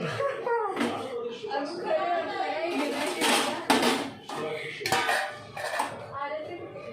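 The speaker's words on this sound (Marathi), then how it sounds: "आता भांडी घासून घेते झाडू मारून घेते" Dishes clatter and scrape with metallic clinks of pots and cutlery as someone washes up, while people talk over the noise.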